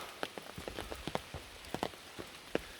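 Rain pattering on a stone-paved mountain trail, scattered drops landing close by in an uneven, steady rhythm, with no voices.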